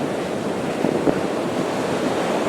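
Wind on a cool 15-degree early-summer day in South Africa, a steady loud broadband rush buffeting the microphone with slight gusty swells, no talking.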